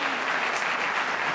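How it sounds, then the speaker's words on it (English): A brief, dense round of applause from a crowd at a welcome-day event, loud and sustained with no pause. "Give her one more round of applause"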